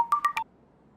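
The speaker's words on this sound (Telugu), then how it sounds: "మా అబ్బాయి ఫోన్ చేస్తున్నాడు" A mobile phone ringtone chimes for an incoming call, three short bright electronic tones in quick succession and then cut off, close and clear with no talking.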